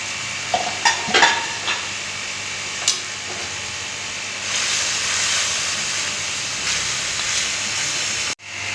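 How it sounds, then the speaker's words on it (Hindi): Minced meat (keema) frying in a pan of masala, with a soft steady sizzle and hiss that swells after a few brief stirring clatters, continuing alone with no talk. "इसके साथ हम ये देखें जी, कीमा भी डाल रहे हैं।"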